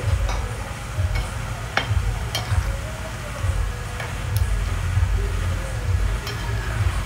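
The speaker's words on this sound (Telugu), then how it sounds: "పల్లీలు కూడా మీడియం ఫ్లేమ్లో పెట్టుకొని ఫ్రై చేసుకోవాలి." Peanuts frying in a pan over a medium flame, giving a steady close sizzle broken by small clicks and scrapes as they are stirred, with no talking.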